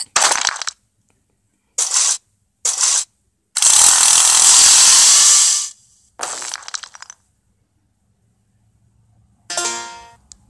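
A drill sound effect from the video game Henry Stickman Escaping the Prison plays in loud, sharp mechanical bursts: several short whirs, one long sustained grind, then a few more brief bursts separated by silence.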